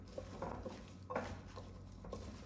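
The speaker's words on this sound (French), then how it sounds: "Et donc, on vient mélanger l'ensemble des légumes" Vegetables are tossed with charmoula marinade in a bowl for a fish tajine, producing soft, quiet clinks and wet scraping of a utensil in irregular strokes, close but faint.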